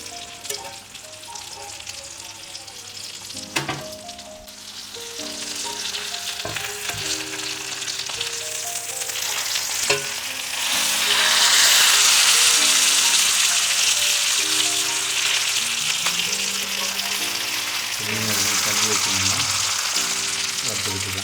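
Coconut rock fish frying in hot oil, a loud sustained sizzle that swells louder midway, with music playing underneath and occasional knocks.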